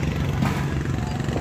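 A Hero Honda Karizma motorcycle engine runs close by, a steady low throbbing rumble with no clear revving.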